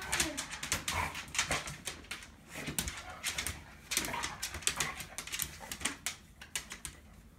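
A Petit Basset Griffon Vendéen dog whimpering and whining in excited greeting, rapid high-pitched whines and yelps repeating close by throughout.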